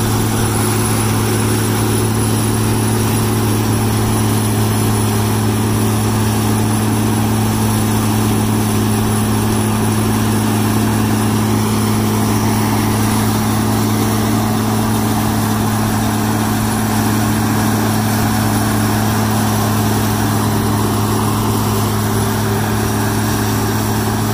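International 615 combine with a two-row corn head at a vintage farm equipment show, its engine running in a loud, steady, even drone that holds unchanged throughout, no talk.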